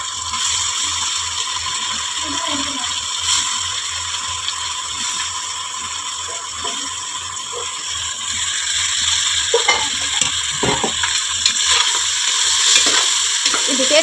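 Coriander, mint and curry leaves are sautéed in a pan for biryani, a constant sizzle under repeated clicks and scrapes from stirring.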